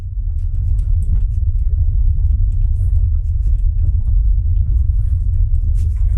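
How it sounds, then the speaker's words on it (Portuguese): Low, heavy rumble of a compact SUV, either a VW T-Cross 200 TSI or a Jeep Renegade Sport, driving over uneven pavement, a steady loud road-and-tire drone with faint knocks, with no one talking. "Agora vamos ver o piso desnivelado e a terceira lombada, para a gente ter aí uma ideia de como é que o carro se comporta."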